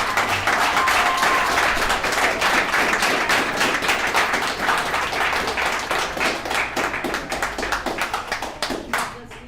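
An alumni meeting audience at a recovery services gathering gives Kenny a round of applause, dense steady clapping from many hands filling the room for nearly ten seconds before thinning out near the end.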